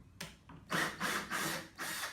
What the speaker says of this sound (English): I'm only going to actually drill in about halfway and then take the drill back out